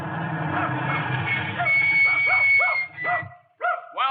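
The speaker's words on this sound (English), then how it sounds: "if you'll call off your dog, ma'am" In a radio drama, a farm dog yips and barks in a quick run of short, sharp calls over a steady background rumble that cuts out near the end.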